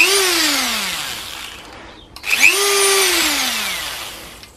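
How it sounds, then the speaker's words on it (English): A Dremel rotary tool, controlled by a foot pedal, whines up to a high spin and winds down, then cuts out briefly before surging up again and slowly fading; the sound is close and alone, without talk. "I turn the Dremel on there."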